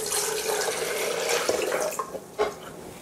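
Water runs steadily into an electric kettle, a continuous close splashing pour with a couple of brief knocks as it fills.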